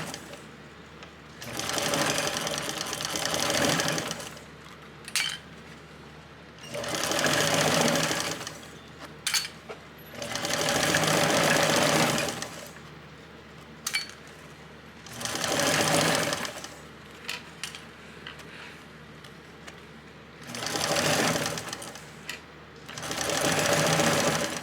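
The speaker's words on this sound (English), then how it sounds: "we are going to stitch this to close at the bottom" Sewing machine at a standard construction stitch sewing the bottom of a crossbody bag closed, running in several distinct bursts of steady whirring separated by brief pauses and small clicks, close and loud.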